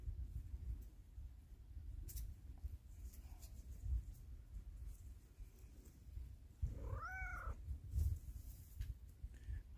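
A cat rolls around on the ground and gives a couple of soft meows, close but fairly quiet, amid low rustling and handling noise outdoors.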